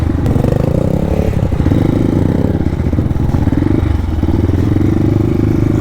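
Motorcycles labor over a rocky trail with loud, continuous engine drone close up, revving and straining as the bikes clatter across stones on the Sitio Pidpid route toward Big Falls.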